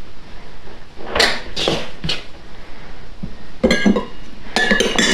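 Frozen mixed berries spooned into a container: a few sharp clinks and rattling knocks in two short bursts, close and fairly loud, with quiet gaps between and no talking.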